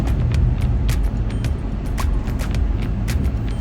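A 2024 Changan Hunter RE-EV electrified pickup driving in pure electric mode, a steady low rumble of road and tyre noise from inside the cab with light rattles and ticks.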